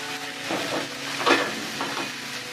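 Chopped onions hiss and sizzle in hot oil at the side of a pan while steak cooks, a faint steady crackle with a few brief louder flares and no talk.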